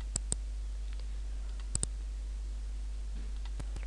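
A computer mouse clicks faintly a few times, mostly in quick pairs, over a steady low hum with no talking.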